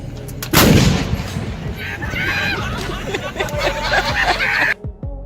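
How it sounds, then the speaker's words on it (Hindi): A military cannon is fired as a makeshift alarm clock beside a sleeping soldier: one loud, close blast, then a rumbling aftermath under chatter and laughter from nearby people. "बाकायदा तोप चलाकर अलार्म क्लॉक का काम लिया गया"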